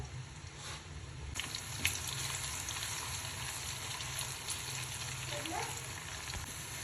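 Onions frying in oil in a pan, cooking until light golden for an Afghani Kabuli pulao, give a steady, moderate sizzle throughout with a faint light clink partway through and no voices.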